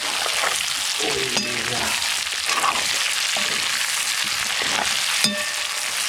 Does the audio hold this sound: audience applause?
no